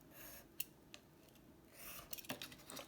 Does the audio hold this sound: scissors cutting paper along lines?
yes